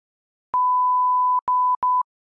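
A steady pure 1000 Hz synthesizer sine tone sounds alone, clean and loud, holding nearly a second before breaking into several shorter bursts with clicks at each start.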